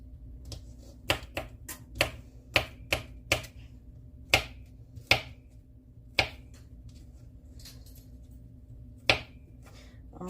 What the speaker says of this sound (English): I'm going to dice these up super fine